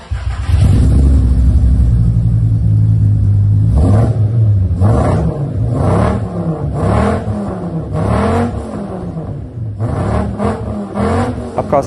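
A VW Golf 3 with a VR5 engine, fitted with a tubular exhaust manifold, 100-cell metal catalyst and a full Novus exhaust system, revs loudly and close by, with a steady idle followed by a series of repeated rising and falling revs.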